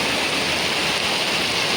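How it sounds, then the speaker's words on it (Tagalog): Heavy rain pours down in a dense, loud, unbroken hiss at the Lake Apo parking area, steady and close with no pauses. "Grabe ang lakas ng ulan"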